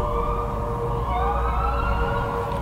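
A steady ambulance siren wails continuously over low traffic rumble, holding a sustained tone throughout without pause.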